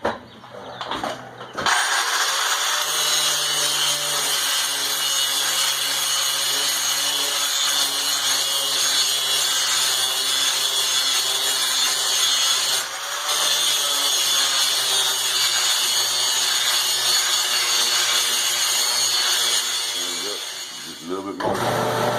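A belt grinder finishing an S7 tool steel hammer eye drift at about 220 grit makes a loud, steady abrasive whine and hiss that runs for most of the stretch, with a brief dip partway through.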